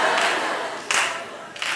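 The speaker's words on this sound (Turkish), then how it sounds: "O ne alkıştı?" Short bursts of clapping in a studio setting, several quick rounds of applause close by, separated by brief pauses.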